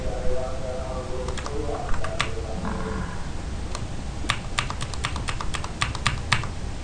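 Quick bursts of typing sound on a computer keyboard during password-cracking work in a terminal, with sharp, close key clicks that speed into a rapid run of presses toward the end.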